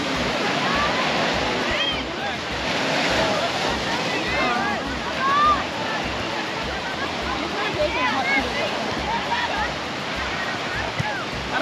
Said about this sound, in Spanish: El mar, el oleaje.